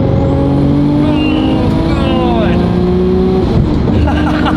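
Nissan Skyline R33 GTR, a 700+ hp paddle-shift car, pulling hard in third gear, its loud engine note climbing steadily in pitch from inside the car, with voices heard over it.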